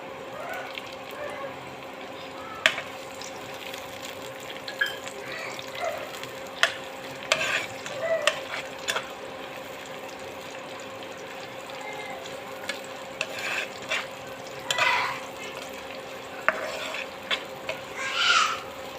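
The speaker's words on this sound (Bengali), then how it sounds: "পেঁয়াজগুলো ভাজা ভাজা হয়ে গেছে" Onions frying in oil in a frying pan: a low continuous sizzle broken by frequent sharp clinks and scrapes of stirring, moderately close and fairly quiet.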